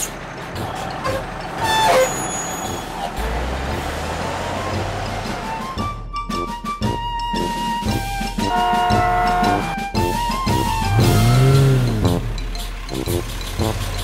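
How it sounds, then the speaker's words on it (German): A cartoon tow truck engine rumbles with reversing beeps, air brake hisses and bright synthetic tones, a busy layered vehicle soundscape throughout. "Hallo, Abschleppwagen."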